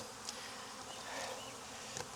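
Honeybees buzz around a hive during hive work in Jacksonville, Florida, a faint, steady droning hum that holds evenly throughout with no voices over it.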